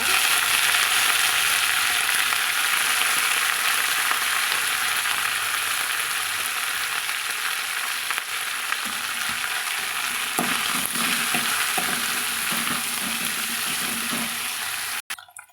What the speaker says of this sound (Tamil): இப்போது நம்ம அந்த க்ளீன் பண்ணி வச்சுக்கிற புதினா இலைகளையுமே சேர்த்து வதக்கலாங்க